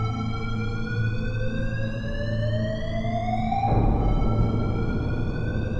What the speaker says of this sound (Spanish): se volvió a encender la alarma